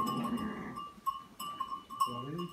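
Sheep and lambs bleat in several short, wavering calls in a farm pen, moderately close, with a steady hum underneath and little else around.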